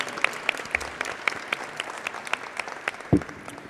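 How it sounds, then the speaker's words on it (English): An audience at an outdoor Earth Day celebration in San Francisco applauds with scattered, fairly light clapping that carries on steadily for several seconds, with a sharp bump near the end. "And another round of applause for Mayor London Breed."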